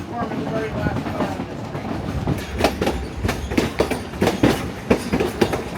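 A Durango & Silverton narrow gauge steam train rolls along rails with rhythmic clickety-clack and wheel clatter, steady and close, with occasional louder knocks.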